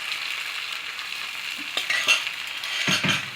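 Thin neer dosa rice batter sizzles on a hot tawa with a steady, close frying hiss, and a few light utensil clinks toward the end.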